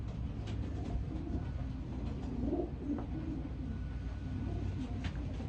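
Racing pigeons cooing softly in a loft, low murmuring calls repeating under a steady background hum, with a few faint higher chirps.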